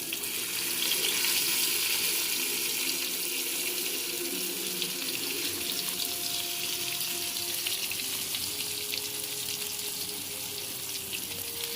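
Jitada fish fries in a pan, a continuous hissing sizzle that runs steadily throughout, close and even, with no voices.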